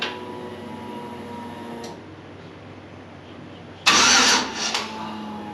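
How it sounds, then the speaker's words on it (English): A car engine on a vehicle with green fuel in it cranks and fires after the battery cable is reconnected, a brief loud burst followed by a rough stutter, then settling back toward quiet, with no talk over it. "Turns over."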